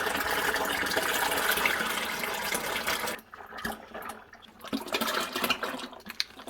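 Hot water gushes and splashes while a homemade wine fermenting vessel is rinsed out, a steady loud pour for about three seconds, then breaking into irregular sloshing and splashes.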